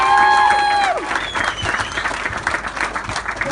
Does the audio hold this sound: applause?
yes